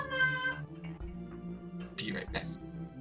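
A house cat meows indoors, a drawn-out tonal cry followed by shorter, rougher calls, close and fairly clear.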